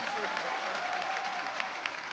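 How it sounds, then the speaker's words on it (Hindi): Studio audience on an Indian TV show applauding two guests, a soft, even patter of clapping that stays fairly faint and steady, with a thin tonal hum running beneath it. "जोरदार तालियां एंजेला और बाईचुंग के लिए।"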